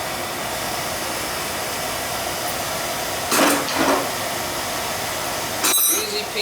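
A Beckett oil burner with a new motor runs as a steady, loud whooshing roar, broken by a few brief clanks and metallic taps.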